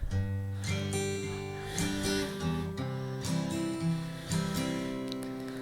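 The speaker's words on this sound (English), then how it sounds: "So with the pick strumming, it sounds like this." An acoustic guitar strummed with a pick, bright chords played in a steady rhythm with regular strokes and chord changes, no voices.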